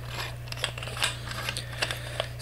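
Small metallic clicks and scraping ticks sound as the threaded metal body of a budget condenser microphone is screwed back onto its base, close-up over a steady low electrical hum, with no talking.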